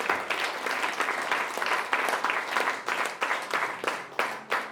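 A church congregation applauds during worship, with near, strong clapping pulsing in a quick, steady rhythm of distinct bursts throughout.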